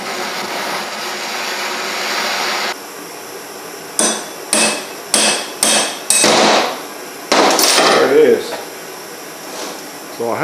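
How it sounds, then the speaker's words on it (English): Hammer blows on a steel punch driving out a 1970–81 Camaro door hinge: a burst of about six sharp, loud metallic strikes in quick succession, each ringing briefly, after a stretch of steady torch or blower noise. "where I was hitting on it with that punch"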